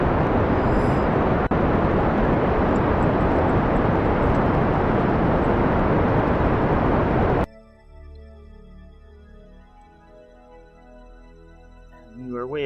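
A rocket engine in Kerbal Space Program roars as a loud, steady broadband rush for several seconds, then cuts off abruptly and leaves a quieter, tonal background hum.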